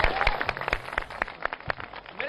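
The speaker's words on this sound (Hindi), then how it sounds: "देखिए जनता का उत्साह किस तरीके से जनता यहां ताली बजाती नजर" A crowd at an outdoor political debate show in Saharsa claps in scattered, overlapping bursts of sharp slaps over a steady background murmur of people.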